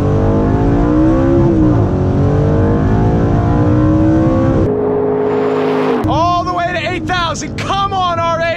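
An Audi R8 rally car roars at full throttle on a top speed run, its engine pitch climbing steadily through the gears with brief shift breaks. Someone talks over the loud, close engine.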